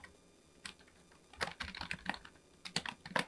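Typing on a computer keyboard while writing HTML code, with short bursts of close, crisp key clicks separated by brief pauses and no talk.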